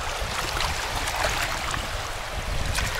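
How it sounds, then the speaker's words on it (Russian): A steady wash of lake waves rolls and churns nearby at Lake Shalkar near Uralsk, with wind-like rushing noise and no voices. "две волны идут"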